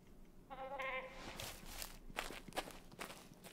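Brown goats in the Way of the Hunter hunting game, set in Matariki Park, let out a short bleat, followed by scattered footsteps and rustling movement nearby.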